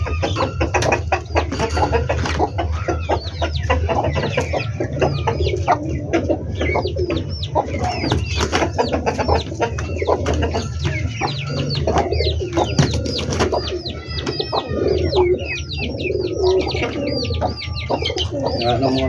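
A flock of large backyard chickens in hot weather clucks and coos continuously at close range. The calls overlap in busy, irregular bursts, and a voice speaks faintly now and then.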